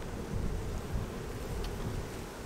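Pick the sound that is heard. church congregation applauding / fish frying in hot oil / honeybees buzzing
honeybees buzzing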